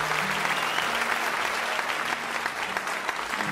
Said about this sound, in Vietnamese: mọi người nên dành cho Luân một tràng vỗ tay rất là lớn